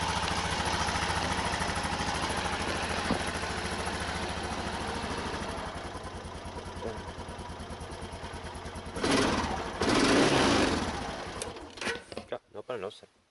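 A small lawn mower engine fires up after a choke-assisted start in a countryside yard, chugging steadily with a mid-pitched rattling drone, then surging louder and more raggedly before cutting out near the end.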